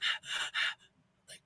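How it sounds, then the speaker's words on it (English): A man hyperventilates close to the microphone with rapid, heavy gasping breaths: three quick loud bursts, a softer one, a short pause, then another sharp intake. "He starts breathing Hyperventilating real heavy."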